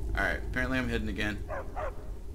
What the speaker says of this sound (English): Dog needs to calm down.